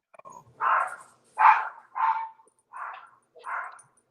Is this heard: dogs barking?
yes